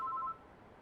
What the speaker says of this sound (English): we've got a phone call from the health department.